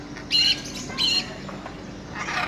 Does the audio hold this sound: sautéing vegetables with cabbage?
no